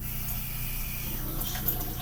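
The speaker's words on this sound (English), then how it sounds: "I believe they said just to add a little bit of water." A little water is poured or trickled in while chimichangas are being assembled, a soft steady running-water sound over a low background hum.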